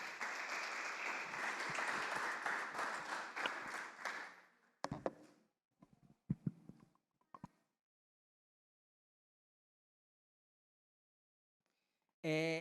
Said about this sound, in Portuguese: Vamos aplaudir os nossos amigos?